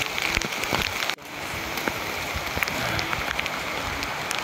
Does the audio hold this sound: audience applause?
no